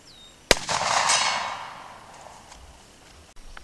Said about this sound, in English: let me take a 100-yard shot off this rest